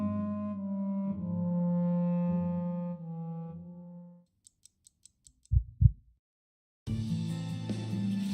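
Abnormal heartbeat effect from the detective video game Staffer Case: a sustained tonal pulse fades out, then a few faint ticks and two loud, low heartbeat thumps are heard in near silence before music resumes.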